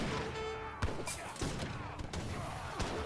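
Buckshot volleys in an Age of Empires 3 battle, several sharp gunshot bursts and thuds scattered over busy battle noise, moderately loud.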